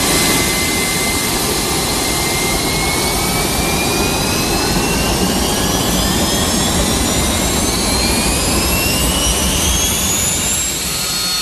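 Jet aircraft engine roaring loud and steady for the whole stretch, a dense broadband rush with rising and falling whine tones sweeping through it, no voices.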